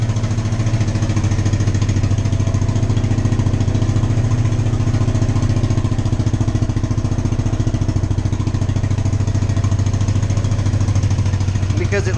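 A 1975 Honda XL350 K1 motorcycle engine warms up on a cold start, a steady loud close idle with a fast even thumping pulse throughout, the exhaust burning off leaked oil.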